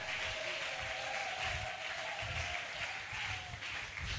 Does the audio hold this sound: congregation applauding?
yes